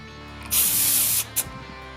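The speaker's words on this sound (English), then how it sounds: "Getting them ready to powder coat." Powder coat sprays onto gloss black mounts in one sustained hiss of about three-quarters of a second, then a brief short burst, loud and close over a low background hum.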